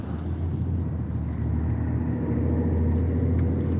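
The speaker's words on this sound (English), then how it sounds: "Sorry about the traffic sounds." Road traffic in Lyons, New York rumbles steadily with a continuous low drone of passing cars, loud and close throughout with no pauses.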